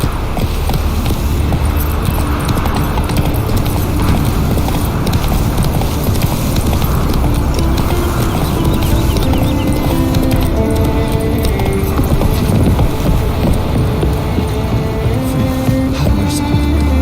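Horse hooves clip-clop steadily at a riding pace in The Witcher 3 video game, loud and continuous with no talking over them.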